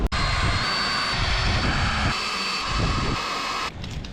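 A spot weld drill bit bores out spot welds on a Nissan 240sx transmission tunnel with a loud, sustained whine and grinding pulses. It cuts off abruptly near the end.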